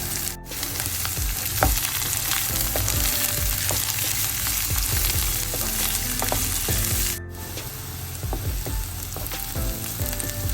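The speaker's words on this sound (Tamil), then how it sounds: "இப்போ கேரட் வந்து கொஞ்சம் கலர் மாறி வதங்கி கொண்டு வருது" Carrot and curry chili sautéing with onion in a pan for a milk curry, a loud continuous sizzle with repeated spatula scrapes and knocks, briefly interrupted twice.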